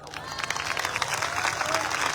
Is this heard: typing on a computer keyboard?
no